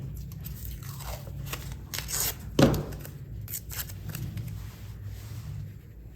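Tape is pulled off a roll and pressed down under registration squares on a screen-printing setup. Close, crackly ripping bursts come in short strokes, with one louder tear midway and a soft rustle between.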